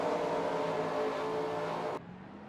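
A race car engine drones at a steady high pitch as it pulls off pit road at the Milwaukee Mile in a racing video game, then cuts off abruptly near the end.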